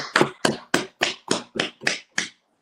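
A small class claps in unison, eight sharp, evenly spaced claps close by with no talking.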